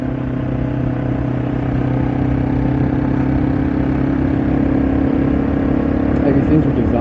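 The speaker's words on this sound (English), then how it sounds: "So, man, this engine, it sounds ridiculous." An old, low-mileage Yamaha TW200 motorcycle engine runs at a steady idle close by, with an even, throbbing mechanical hum and faint clatter that hold unchanged for the whole stretch.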